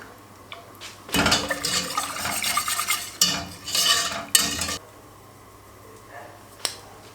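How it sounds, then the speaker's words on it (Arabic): A utensil stirs flour and milk in a pan in close, scraping bursts with a light sizzle, paused by quieter moments and one sharp click near the end. "ونقلب نقلب نقلب لغايه ما الدقيق يمسك نفسه"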